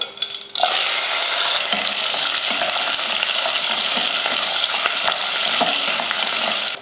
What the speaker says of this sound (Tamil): கடுகு பொரிஞ்சதுமே கொஞ்சம் கருவேப்பிலையும் 100 கிராம் அளவுக்கு சின்ன வெங்காயமும் சேர்த்துடலாம்.